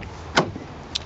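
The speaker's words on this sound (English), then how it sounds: "you've got your electric windows to the front and to the back" Electric windows on a car with chrome-plated mirrors and leather interior whir briefly: a short motor buzz, then a small click or thump near the end, close and without talk.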